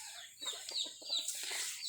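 Young gamecock stag clucking softly in short, repeated bursts, faint and fairly close, with no voices.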